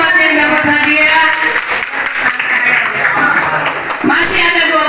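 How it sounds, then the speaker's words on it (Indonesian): Ninth-grade students applauding prize winners in a classroom, loud close clapping mixed with lively voices and chatter throughout. "Tepuk tangan dong buat yang dapat hadiah"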